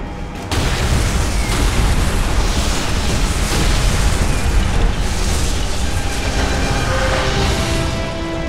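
Explosive charges detonate in the video game Call of Duty: World at War, a dense, sustained roar of booms and rumbling blasts filling the whole stretch after a sharp start, loud and continuous with no voices.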